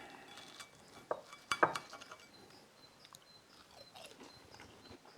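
Crisp crunching bites into fried pork cutlet close up, a few sharp cracks clustered early, followed by softer chewing noises, with faint clinks of cutlery.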